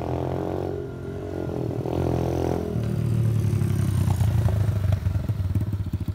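An Apollo X16 125cc automatic pit dirt bike rides a lap nearby, its small engine droning steadily and rising in pitch as it accelerates toward the listener, fairly loud with a rattling edge.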